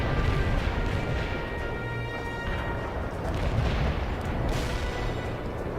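Heavy artillery barrage in the World in Conflict video game, a dense continuous roar of overlapping distant blasts and gunfire rumbling steadily for several seconds, loud and unbroken, with no voices.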